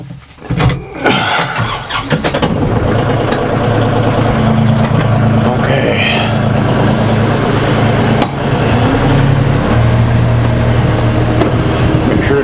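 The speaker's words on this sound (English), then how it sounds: "So, get in this hot tractor." A farm tractor starts up and drives out onto a road on a hot day, its engine rumbling loudly and steadily with a deep, continuous drone after a brief startup clatter.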